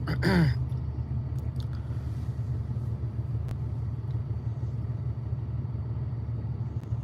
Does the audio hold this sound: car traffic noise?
yes